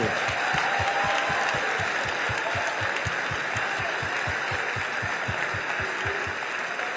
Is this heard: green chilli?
no